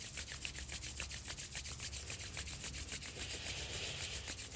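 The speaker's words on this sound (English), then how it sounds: "Palms pressing together, start to rub them, rubbing the palms," Palms rubbing together in a quick, even back-and-forth rhythm, a close, soft rasping swish repeating about four times per second, with no talking over it.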